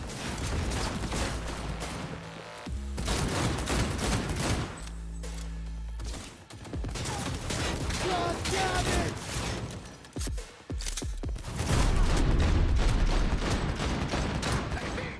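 Heavy gunfire rattles in the video game DDO, rapid automatic bursts and volleys loud and near, broken by brief pauses, with voices occasionally heard beneath the shooting.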